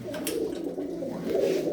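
A prize-winning blue racing pigeon coos in a loft, soft throaty murmurs repeating close by in a short continuous run, with no talking over it.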